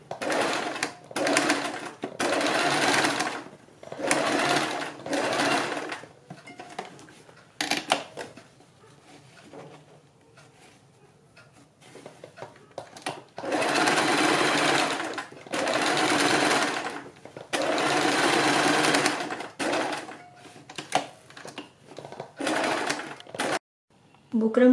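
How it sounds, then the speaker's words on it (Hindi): A sewing machine stitching a bell sleeve in fabric against buckram, running in repeated bursts of steady whirring with short pauses between, close and loud, with someone speaking softly at times. "ये सिलाई हमें थोड़ा आराम आराम से लगानी है"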